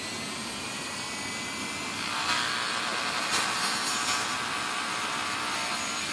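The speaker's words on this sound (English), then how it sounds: "I'm going to use my grinder to make a nice smooth edge." A power grinder smooths the edge of a part for a Dynaflite Bird of Time model glider, giving a steady, close, rough whine that grows louder and harsher after about two seconds.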